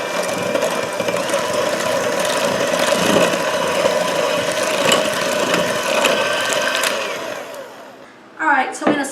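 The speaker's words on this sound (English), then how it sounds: "Alright, I'm going to give that a mix." An electric mixer whirs steadily while pumpkin roll bar batter is mixed, with a loud, continuous motor drone and gritty rattle that runs for several seconds, then cuts off into a short burst of voice.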